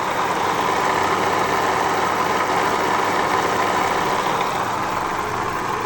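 Mitsubishi L300 diesel engine idling, a loud, close, steady drone with an even low rumble and no talking.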